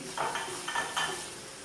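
Potatoes tipped into fried masala with softened tomatoes in a pan for a dhaba-style potato spinach dish, giving a few close scraping stirs and clinks of a spoon against the pan over a low sizzle.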